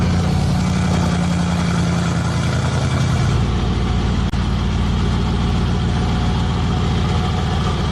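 Modified Mercedes-AMG G63 idling indoors, a loud, steady low exhaust grumble with a deep rumble that shifts slightly partway through and carries on unbroken.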